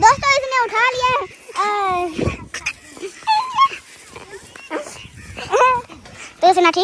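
A dog in a Pakistani village, having snatched up a shoe, gives high whimpers and yips close by, mixed in with children's and adults' voices talking throughout.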